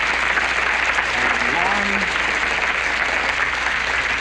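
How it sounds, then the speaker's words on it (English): Steady applause from a telethon studio audience honoring the telephone volunteers, filling the whole stretch at an even level, with brief tonal sounds drifting underneath partway through. "Ladies and gentlemen, a big round of applause for all those people on the telephones."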